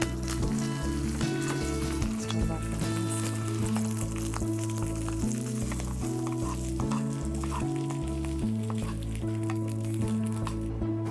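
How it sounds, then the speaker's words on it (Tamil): Urad dal and curry leaves sizzle and crackle in hot oil for a Tamil-style variety rice tempering, a continuous close frying hiss with a low steady hum running beneath it. "உளுத்தம் பருப்பு கொஞ்சம், கொஞ்சம் பொன்னிறமாக வந்த பிறகு கருவேப்பிலை சேர்த்துடலாம் வாசனைக்காக."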